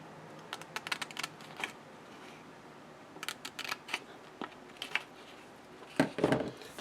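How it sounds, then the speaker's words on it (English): Scissors snip through a paper folder template in short bursts of close, crisp cuts separated by brief pauses, with a final louder rustle of paper. "faster to cut it with the scissors"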